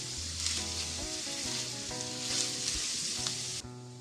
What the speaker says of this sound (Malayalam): ഈ സവാള ഒരു ലൈറ്റ് ബ്രൗൺ ആകുന്നത് വരെ ഒന്ന് ഫ്രൈ ചെയ്തെടുക്കണം.